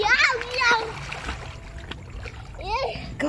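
Water splashing as children play and float in the water, with short sloshing splashes coming and going while kids chatter and call out over them.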